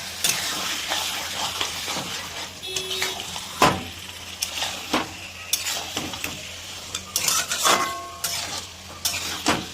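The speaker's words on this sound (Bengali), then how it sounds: "আমরা এই কড়াইতে প্রথমে একটুখানি এটাকে দিয়ে, আর এই দেখুন হাই ফ্লেম রয়েছে, কষে নেব" Mutton being stir-fried in a wok over a high flame for biryani: close, steady sizzling broken by irregular metal scrapes and sharp clanks of a spatula against the pan, with no one talking.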